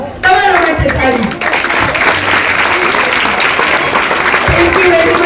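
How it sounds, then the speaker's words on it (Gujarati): Audience applause fills a karate competition hall in Porbandar, steady and loud throughout, with a few voices heard at the start over the clapping. "તમારા માટે તાળી."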